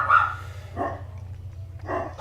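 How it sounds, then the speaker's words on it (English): Dogs bark in the Radiant Historia game, three short bursts spaced apart over a low, steady background hum. "These dogs."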